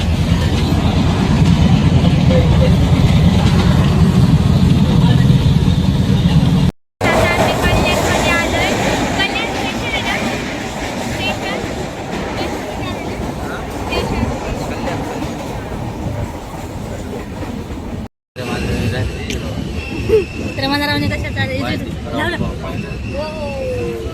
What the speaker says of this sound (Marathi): ही आमची ट्रेन आहे आणि आम्ही आत्ताच उतरलोय